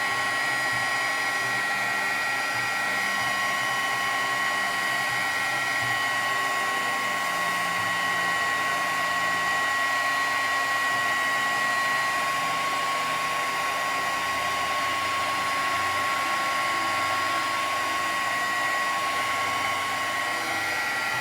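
A heat tool blows steadily close by for the whole stretch, warming Sticky Bond adhesive on a napkin-decorated card; the constant whirring hum and airflow hiss never let up and no one speaks.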